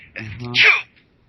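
A single sharp sneeze from a person, close to the microphone and loud, with a short voiced intake just before it and quiet afterward.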